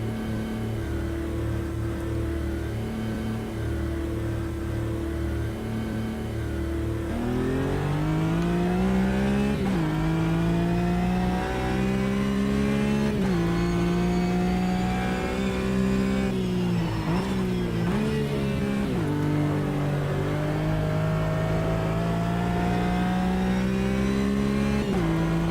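A GT race car in Automobilista 2 accelerates out of the pits at Imola, its engine climbing through several gear changes with rising, falling pitch sweeps, steady and fairly loud throughout.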